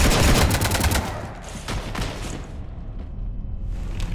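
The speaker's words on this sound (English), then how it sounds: "You want to stop shooting up my ship?" Rapid gunfire rattles in a dense, loud fusillade as a ship is shot up in Mass Effect Legendary Edition, easing into scattered bursts and a fading rumble over a few seconds.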